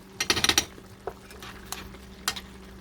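Chicken adobo with sweet-spicy ketchup stirred in a pan, a quick cluster of metallic scraping clinks followed by a few isolated taps over a faint low sizzle.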